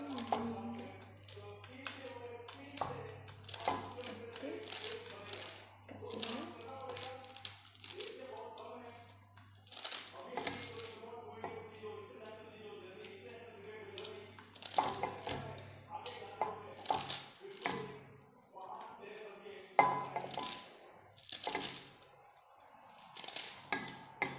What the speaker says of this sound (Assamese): এতিয়া মই কাটি লওঁ পাচলিখিনি, শাকখিনি।